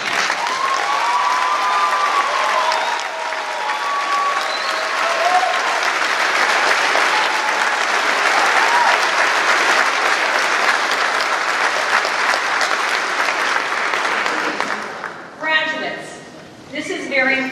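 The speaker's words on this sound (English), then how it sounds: "I would like all of our veterans that have currently served or have served in the armed forces to please stand and be recognized." Sustained, loud applause from a graduation ceremony audience honoring standing veterans, a dense wash of clapping that fades toward the end as a voice begins speaking.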